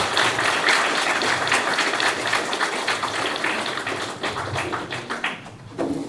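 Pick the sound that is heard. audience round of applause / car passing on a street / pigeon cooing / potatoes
audience round of applause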